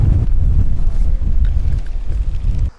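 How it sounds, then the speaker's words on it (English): Strong wind buffets the microphone at a seaside marina in Guardamar del Segura, a loud continuous roaring rumble that cuts off abruptly near the end. "It is so windy around here."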